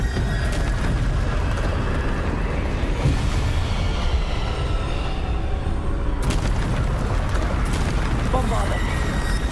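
Bombarda blasting spells explode again and again in Hogwarts Legacy, a dense, continuous roar of booming bursts and crackling debris under game music, with a sharp fresh blast near the end.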